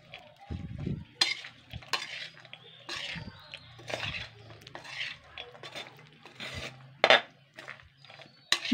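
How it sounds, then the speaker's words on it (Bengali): Potato chaat being mixed with spices in a large wok, with scraping and clinking of a spoon against metal in irregular strokes, close and fairly quiet. "কড়াইটার মধ্যে আগে মেখে নেবো ভালো করে,"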